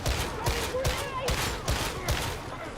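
Rapid bursts of sniper and other gunfire in the video game Darktide, a loud run of repeated shots every half second or so over a dense battle din, with voices faintly mixed in.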